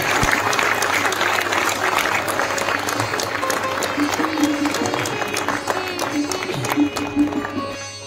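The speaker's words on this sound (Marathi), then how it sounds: "याही पेक्षा जोरदार टाळ्या झाल्या पाहिजे" Sustained applause from an audience at a Marathi theatre award ceremony honouring veteran actor Mohan Joshi with a lifetime achievement award, dense steady clapping that fills the hall and fades slightly at the end, with voices mixed in.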